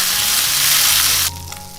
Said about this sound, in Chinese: 把虾头放进来炒出虾油